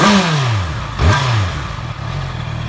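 A stock-exhaust 2018 Honda CBR650F motorcycle engine revving up and dropping back twice, a close, fairly quiet rising and falling whine over a steady idle.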